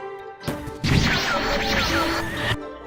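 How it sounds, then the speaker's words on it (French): Crashing special attack in the Roblox game Blox Fruits, a loud sustained burst of whooshing impact noise lasting about two seconds, with a single heavy smash at the start, set over steady game music. "Ça tourne, ça le prend et boum, ça fait un gros fracas."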